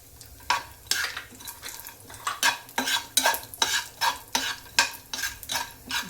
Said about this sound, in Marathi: थोडं थोडं भाजून घ्यायचं